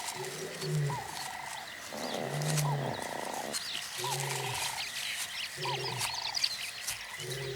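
A male lion calls in the wild with a series of deep, rhythmic grunting roars, repeated in bursts and fairly close, over a steady background of chirping birds and frogs.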